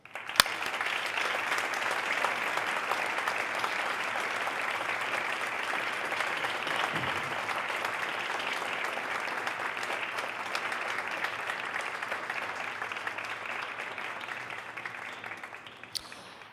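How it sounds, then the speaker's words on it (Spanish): Audience applause at an award ceremony for the Orden del Pop and Premio Huun, steady dense clapping from a large crowd that holds throughout and fades slightly at the end. "Y en este momento, sí, un merecidísimo aplauso."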